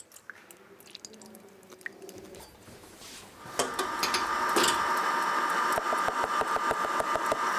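An electric mixer whips egg whites with caster sugar for a Royal Chocolat dessert; after quiet handling sounds, a steady motor whir starts partway through and runs to the end with a rhythmic ticking as the beaters hit the bowl.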